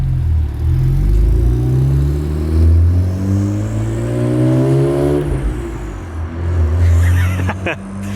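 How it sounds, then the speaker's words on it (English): BMW 335i with a VRSF exhaust accelerating, a loud close engine rumble and rising revs with gear changes, a high turbo whistle climbing above it, then easing off. "That turbo whistle is disgusting, man."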